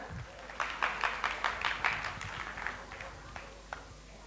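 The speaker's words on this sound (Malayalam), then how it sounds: "ഒരു നല്ല കയ്യടി കൊടുക്കാം നല്ലൊരു ഡാൻസ് പെർഫോമൻസ് കാഴ്ചവെച്ചതിന്" Audience applause after a dance performance at an Onam celebration, a modest scattering of claps that peaks early and thins out, heard fairly close under room noise.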